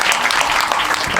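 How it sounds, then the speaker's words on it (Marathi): A crowd at a kirtan during the Pandharpur wari pilgrimage claps loudly for the singer, a dense, even burst of applause filling the brief moment. "एकदा गायक वाजण्यासाठी जोरदार टाळ्या झाल्या पाहिजे"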